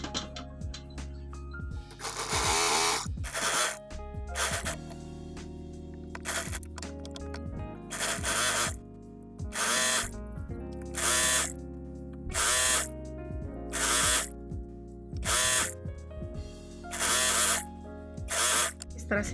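An electric sewing machine stitches along a trouser strip in repeated bursts, each a loud, fast mechanical whirr separated by short pauses, close up with no talking.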